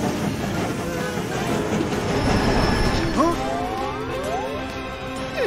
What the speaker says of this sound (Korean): 슈퍼 기차로 변신했군요.